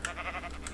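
A sheep in the video game TerraFirmaCraft gives one short wavering bleat, close and moderately loud, standing alone without speech.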